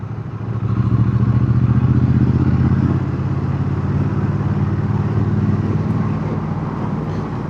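A Triumph Speed Twin 900 modern classic motorcycle riding along English village roads, its engine a loud, steady close rumble that swells briefly then holds an even drone, with wind noise and no talking.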